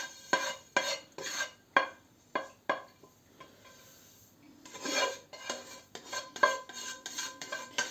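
Sesame seeds poured into a bowl of beet salad and stirred with a utensil, giving a series of sharp clinks and scraping rattles against the dish, close and clear with short pauses between strokes.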